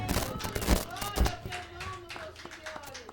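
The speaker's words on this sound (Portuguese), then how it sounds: "Podemos dar realmente uma salva de palmas para Jesus" A church congregation applauds with scattered, uneven claps and a few heavier slaps, while a voice speaks over the clapping at moderate distance.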